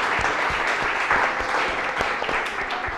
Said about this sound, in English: Please give these sponsors a big round of applause.